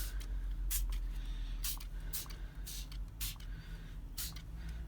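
A hand spray bottle misting water onto artwork, a series of short sharp hissing sprays about every half second, close and fairly quiet over a low background hum.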